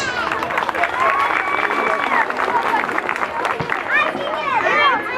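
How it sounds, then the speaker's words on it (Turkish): Young children and parents clap for the strawberries class at a kindergarten graduation ceremony, a lively, steady round of applause mixed with crowd chatter and high children's voices throughout. "çilekler sınıfına da bir alkış."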